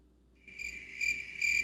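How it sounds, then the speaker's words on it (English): Crickets chirp at an airport in a steady high trill that swells in two or three pulses, clear and moderately loud over a low background hum. "airport crickets."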